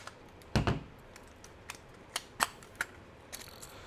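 A film camera shutter on bulb (B) setting is pressed open and later released. The result is a sharp mechanical click, then a cluster of small clicks and ratchety handling taps, all close and quiet.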